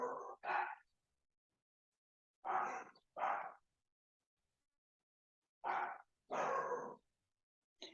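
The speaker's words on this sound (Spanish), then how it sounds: "¿Se escuchan mucho a mis perros o no?" A dog barks in short bursts, two quick barks, then a pair, then another pair after a pause, with silence between, fairly near.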